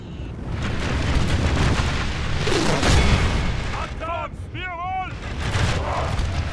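Battle gunfire in an Elder Scrolls Total War mod, heavy booms and shots over a roaring melee, with a voice speaking partway through and chirping tones near the end.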